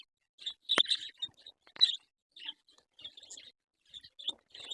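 Budgerigars in a breeding setup give sparse, faint chirps and tweets with short quiet gaps between, plus a few small scratchy taps nearby.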